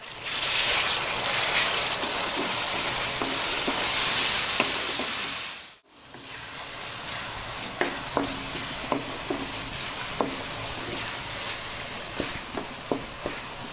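Rohu fish pieces frying in a pan with tomatoes and green chillies, a steady hiss of sizzling oil, then after a brief gap a quieter sizzle broken by regular scraping stirs.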